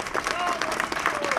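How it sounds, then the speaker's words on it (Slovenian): Dense applause from an audience at a Slovenian committee gathering, steady clapping through the whole short stretch with a voice speaking over it. "predlagam še en velik aplavz za gospoda Inga Paša"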